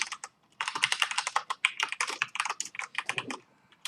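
Quick bursts of close, crisp clicking from typing on a computer keyboard, with irregular rhythm and brief pauses between runs of keystrokes.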